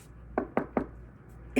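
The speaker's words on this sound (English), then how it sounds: "I go upstairs and knock on my grandma's door" Knocking on a grandmother's bedroom door upstairs in a house: three sharp, evenly spaced knocks, a short pause, then a fourth knock, clear and close with no talking.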